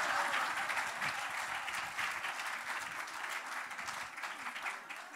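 Audience applause at a panel discussion, a broad, continuous wash of many people clapping that holds steady for several seconds and then tapers slightly toward the end.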